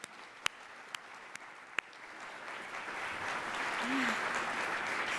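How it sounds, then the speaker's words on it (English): An audience at a community forum on retirement readiness in Central Ohio breaks into applause: a few scattered claps at first, then a steady wash of clapping that swells and holds, with a voice talking over the early part. "Can we give them all a round of applause?"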